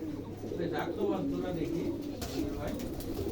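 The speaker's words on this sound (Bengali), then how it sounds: "মাশাআল্লাহ, অনেক সুন্দর কবুতরগুলো, সবগুলো খেয়ে বেড়াচ্ছে।" A flock of over a hundred fancy Giribaj pigeons in Rajshahi coo in soft, overlapping murmurs, with a voice talking nearby.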